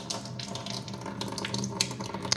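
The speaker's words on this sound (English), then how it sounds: "It has its own dedicated faucet with the alkaline water and the acidic water." Water runs steadily from the dedicated faucet of an under-counter water ionizer into a sink, a continuous close splashing stream with no talk.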